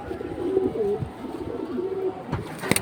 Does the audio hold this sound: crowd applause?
no